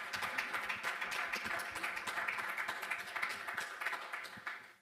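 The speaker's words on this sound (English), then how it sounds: "can you clap for that?" An audience at a business summit panel breaks into applause, a dense patter of many hands clapping at moderate distance that holds steady for several seconds before cutting off.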